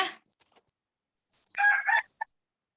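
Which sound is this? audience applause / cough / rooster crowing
rooster crowing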